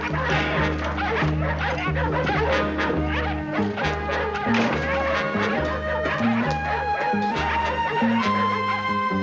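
A dense chorus of many dogs barking and howling at once, continuous and overlapping, with no pauses throughout.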